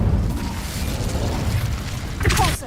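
Hogwarts Legacy's Incendio fire spell erupts as a booming blast amid a rumbling game soundscape, with a sharper burst flaring near the end.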